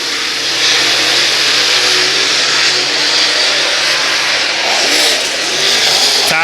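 Super late model race cars roaring around the Brownstown Speedway dirt track on championship night, a loud sustained engine drone that swells as the field passes at the race start.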